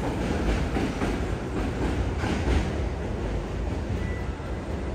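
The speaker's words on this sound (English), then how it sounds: "Again, that's the train." A train rattles and rolls over old elevated tracks in Bensonhurst, Brooklyn, a continuous rumbling clatter with faint rhythmic clicks, moderately loud and steady over a busy street.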